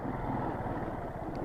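A street-legal dirt bike rides along a trail, its engine giving a steady, close, rumbling drone throughout with no pauses.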